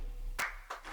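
Two sharp hand claps close by, the second following about a third of a second after the first, over a quiet low background hum.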